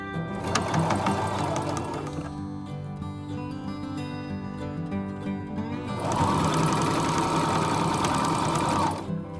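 A sewing machine stitches a 5/8-inch fabric hem in two steady, loud whirring bursts, the first running about two seconds and the second about three, separated by a quieter pause with a faint hum.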